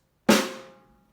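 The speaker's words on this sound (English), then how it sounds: "If we want to play a whole note on a snare drum" A single snare drum strike, sharp and close, with a bright crack that decays quickly into a short ringing tail and then silence.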